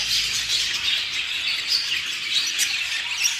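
Continuous high-pitched chirping and peeping from a budgerigar chick being fed, close and steady, with quick rapid calls and no pauses.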